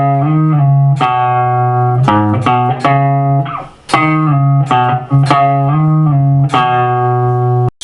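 The guitar lick after the bridge of a song, played as a lesson demonstration: clear, close plucked notes in a short repeating phrase, with no voices.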